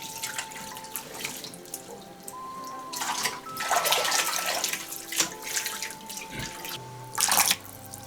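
Tap water running into a kitchen sink as pork intestines are rinsed, with an uneven flow of splashes and gurgles that grows louder partway through and ends in a brief strong gush, no voices.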